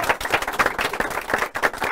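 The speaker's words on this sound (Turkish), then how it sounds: "Beyler Big Mac için bir alkış" A small group of people clapping and applauding at a show, with quick, dense, close claps that keep up for the whole short moment.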